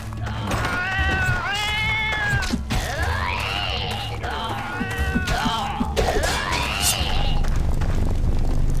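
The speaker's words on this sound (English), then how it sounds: "I find that cat really annoying." A pet cat in the FATE video game meows repeatedly, with several drawn-out, rising and falling cries that come close and loud, one after another, over a low background hum.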